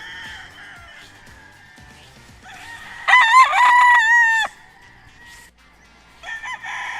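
Gamefowl roosters on a farm crow loudly nearby, one long crow standing out over softer clucks and a distant crow, with no speech.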